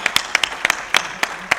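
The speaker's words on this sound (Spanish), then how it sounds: "Y vaya ese aplauso a toda la Junta Directiva" Scattered applause for a board of directors at a community pharmacy presentation, a handful of sharp, separate claps spaced irregularly, fairly close and brief.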